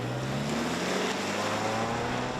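A 2024 Subaru Crosstrek Wilderness with a naturally aspirated 2.5-liter four-cylinder engine accelerates, a steady droning engine roar with a rising tone and constant road noise, loud and unbroken.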